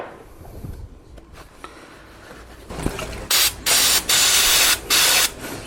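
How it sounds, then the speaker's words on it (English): Brake cleaner sprayed onto a Honda J-series V6 engine part during valve work: four loud hissing spray bursts in quick succession after quieter shop handling noise. "Hit it with some brake cleaner."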